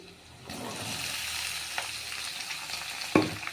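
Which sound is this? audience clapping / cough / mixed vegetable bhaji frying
mixed vegetable bhaji frying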